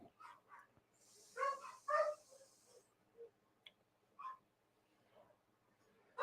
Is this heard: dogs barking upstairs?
yes